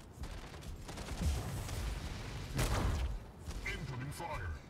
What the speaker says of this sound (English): Rocket mortars. I hate them.